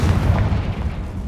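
A Confringo blasting spell explodes in Hogwarts Legacy, a deep, rumbling boom that fills the short moment with low, muffled roar and no voices.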